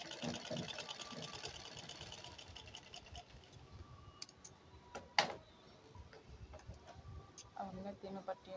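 A sewing machine runs a straight stitch through blouse lining, its rapid ticking clatter steady through the first few seconds, then fading into lighter handling noise with a sharp knock midway.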